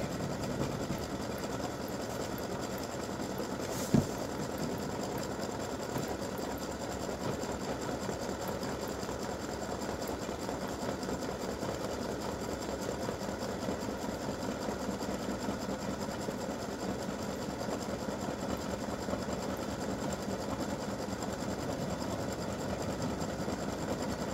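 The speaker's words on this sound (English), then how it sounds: "this is going to finish doing the satin stitching" An embroidery machine runs satin stitching on an awareness ribbon design, a steady rapid mechanical whirring and needle chatter that continues evenly throughout, with one brief clack near the start.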